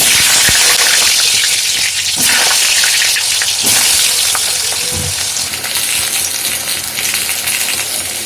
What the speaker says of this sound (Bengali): কড়ায় সর্ষের তেল গরম করে প্রথমে আলুগুলোকে খুব ভালো করে